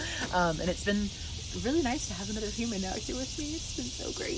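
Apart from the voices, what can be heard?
cicadas buzzing outdoors in Pennsylvania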